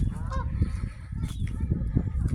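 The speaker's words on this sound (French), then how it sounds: "On entend les canards, non, c'est pas des canards, ah, si c'est des canards." Waterfowl on a lake at an estate honk and call repeatedly at moderate distance, a busy overlapping flock chorus over soft outdoor ambience.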